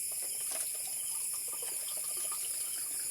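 Cold water being poured, a steady close gushing stream like a tap running into a container, continuous and fairly soft, with no voices.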